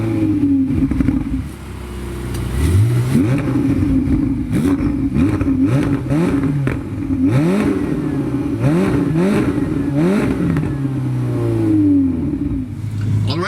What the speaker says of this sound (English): let's start the engine and let's see how this car works on the road.